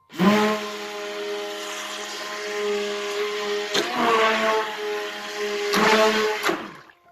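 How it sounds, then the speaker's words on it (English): A stick blender whirs through soap batter in short loud bursts, its motor whine steady with a few brief pauses and restarts, close and without talk. "So we're going to stick blend this"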